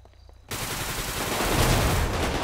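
Assault rifle fire in GTA V on a FiveM roleplay server, a sudden loud, dense burst of rapid automatic shots that keeps going without pause after a brief quiet moment.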